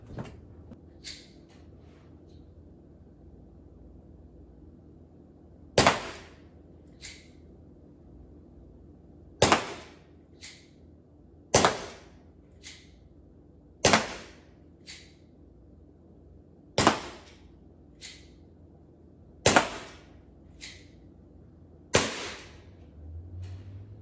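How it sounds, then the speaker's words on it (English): Crosman SBR 357 CO2 revolver firing darts: about nine sharp, separate shots with irregular gaps between them, each a crisp pop, with faint small clicks in between against a quiet background. "shooting darts with the Crosman SBR 357"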